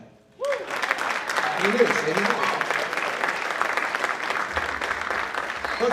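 Audience applause at a high school spring band concert, a dense, steady wash of clapping that starts abruptly and holds loud through the clip, with a few voices talking and calling out beneath it.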